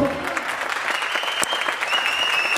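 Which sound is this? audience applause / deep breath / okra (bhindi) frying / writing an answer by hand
audience applause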